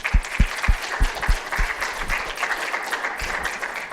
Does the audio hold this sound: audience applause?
yes